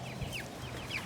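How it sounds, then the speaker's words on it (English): Cornish Cross chicks cluck and peep faintly outdoors while being moved from the coop to a movable pen, with a few high calls over steady low background noise. "Today we are moving the chicks out from the coop into the outdoor pen, their movable pen."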